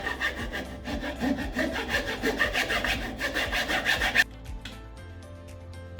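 A handsaw cuts through small pieces of wooden plank in quick, rhythmic back-and-forth strokes, close and loud, then stops abruptly near the end.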